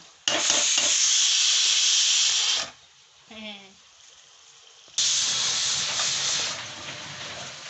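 A pressure cooker cooking rice whistles, shrieking with a loud rush of hissing steam, stops for a moment, then blasts again with the same sustained hiss.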